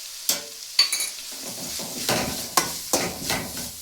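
Chili powder, turmeric, cumin and asafoetida sizzle softly in a pan while a spoon scrapes and clinks against the metal in irregular stirring strokes.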